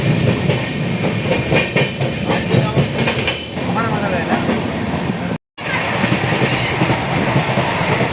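Loud, continuous rattling and clattering of a moving train on the tracks, rhythmic clacking throughout with a brief dropout near the end.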